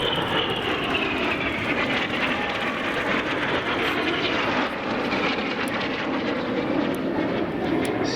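Red Arrows jets at the RAF Cosford air show in 2019 roar overhead in a continuous loud whooshing drone with a slow pitch sweep as the aircraft pass, no talk over it.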